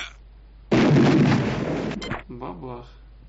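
One loud, close cannon blast with a rumbling decay from the strategy game Incubation: Time Is Running Out, abruptly cutting in and fading over about a second, followed by a brief spoken voice.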